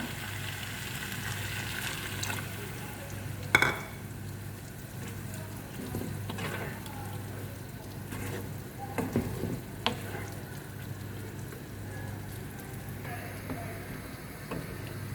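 Water poured into dal frying with spices in a pan, a steady sizzle with stirring clatter and a few sharper knocks against the pot, heard close without talk.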